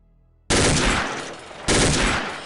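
Two loud, sharp gunshot blasts from an OICW rifle in the Soldier of Fortune 2 video game, each followed by a decaying boom, spaced about a second apart.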